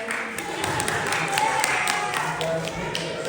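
Audience applause at a Tamil pattimandram debate stage event, a dense steady patter of many hands clapping throughout, fairly loud and close.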